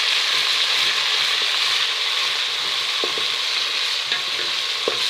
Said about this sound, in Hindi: अब इसमें डाल देंगे अदरक लहसुन का पेस्ट जो लांगरी में कूट के तैयार किया है, इसको डाल देंगे।